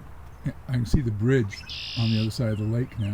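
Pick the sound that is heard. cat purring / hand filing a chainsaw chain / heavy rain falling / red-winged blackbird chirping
red-winged blackbird chirping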